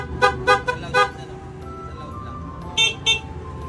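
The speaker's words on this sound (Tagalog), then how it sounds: "O diba dalawa na yung tunog ng busina, isang mahina at isang malakas." A Honda ADV150 scooter's dual horn sounds in two sets: three short loud toots, then a pause and two higher, softer beeps from the second horn, heard close outdoors.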